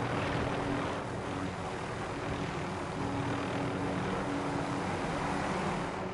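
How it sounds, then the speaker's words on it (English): Enemy UAV drone droning steadily overhead in a video game, a continuous engine-like hum with faint tonal bands that holds at an even level throughout, no voices over it. "Enemy UAV overhead."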